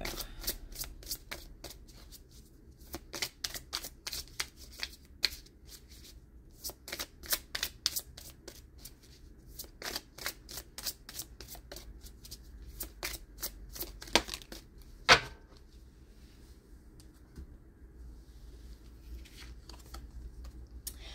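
Oracle cards of a colour deck are shuffled by hand in quick riffling bursts of sharp, close clicks, pausing briefly between runs and ending in a quieter stretch.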